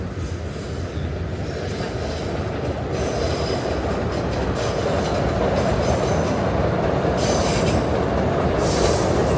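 A New York subway train rumbles steadily nearby, wheels grinding and clacking on the rails, with occasional high metallic squeals.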